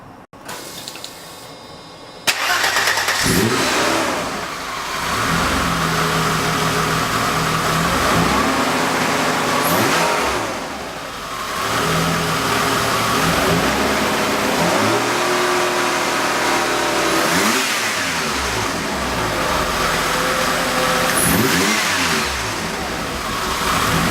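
A Mercedes 190 with an M104 CIS engine cranks and catches. It then revs again and again in rising and falling sweeps, loud and close, with no talking.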